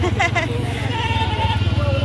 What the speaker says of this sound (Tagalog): Nandito tayo ngayon sa kambingan.